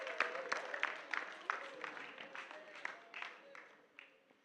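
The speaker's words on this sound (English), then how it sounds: "Please, a round of applause for her." A classroom of students gives a short round of applause during a voice-over training session, a scattering of hand claps, fairly faint and thin, with a voice briefly heard among them.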